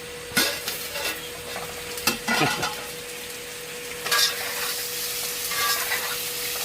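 Food being stirred and fried in a home kitchen while three friends cook together, with sharp scraping stirs at intervals over a steady background hiss of frying.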